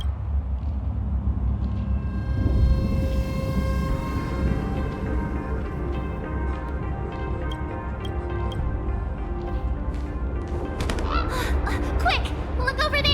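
A bird calls in the Honkai Star Rail video game, heard as bright chirping and whistling notes near the end, over a dense layer of game music and ambience.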